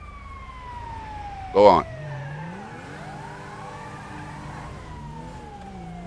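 Ambulance siren in GTA V with the LSPDFR police mod, a steady wailing tone sweeping across the whole stretch with other traffic noise beneath it, interrupted once by a brief loud burst and a man's short remark.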